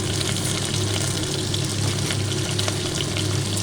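Potatoes with banana stem, torn green chillies and bay leaves frying in oil in a pan, giving a steady close sizzle and bubbling hiss throughout with no talking.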